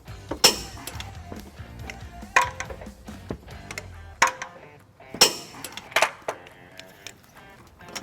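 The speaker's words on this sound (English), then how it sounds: "we're ready to torque down our bolts to the required specifications" Ratcheting socket wrench with a 13mm socket tightening trailer hitch bolts on a 2016 Hyundai Elantra GT, heard as several sharp metallic clicks and clacks spaced irregularly, close and fairly loud, with no talking.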